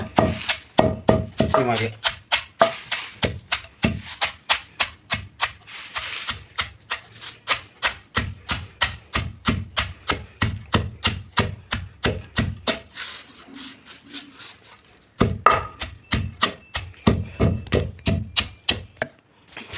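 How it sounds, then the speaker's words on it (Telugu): Curry leaves pounded into powder village style, a pestle striking a mortar in a steady, rapid series of loud thuds with a brief pause midway, and a voice speaking briefly over the pounding. "కరివేపాకు పొడి ఈ విధానం దంచుకోవాలి."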